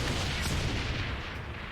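Tank cannon fire in Saints Row The Third, a short, heavy run of booming shots and explosive thuds, loud and close, easing slightly toward the end.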